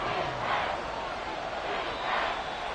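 Stadium crowd in the Madden 24 video game, Chiefs vs Chargers, rising as a big third down approaches: a steady, loud roar of many voices that swells at moments, heard on its own.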